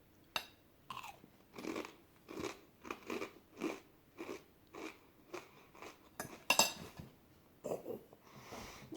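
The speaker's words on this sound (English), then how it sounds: "let's try a bluegill on a kettle cooked potato chip" Crunching bites into a kettle cooked potato chip topped with fried bluegill, close and quiet, a steady series of about a dozen crisp chewing crunches with a louder crack near the end.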